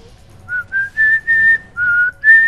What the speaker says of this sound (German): Hör auf zu pfeifen!